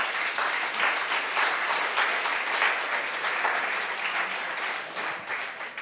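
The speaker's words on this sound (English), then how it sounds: "Big round of applause for Julien" A conference audience gives a sustained round of applause, dense and loud clapping filling the room from start to finish before tapering slightly at the end.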